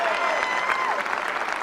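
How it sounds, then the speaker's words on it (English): An audience bursts into dense, steady clapping in a hall, a brief close burst of applause from many hands with a few faint voices underneath. "Steak eaters, clap for me, please."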